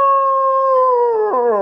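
A voice imitates a large dog howling: one sustained, tonal howl that wavers and slides downward in pitch, close and loud.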